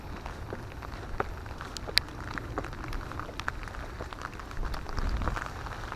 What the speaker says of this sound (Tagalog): Kaya lang inabutan kami ng ulan